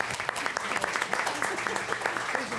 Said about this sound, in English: This concludes our first candidate forum. Round of applause.